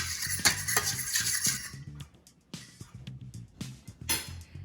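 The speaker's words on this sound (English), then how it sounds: "I'm just gonna give that a quick stir." A utensil stirs almond milk into egg batter in a bowl, scraping and clinking against the sides in quick rhythmic strokes, close and moderately loud, then fading into a few lighter taps.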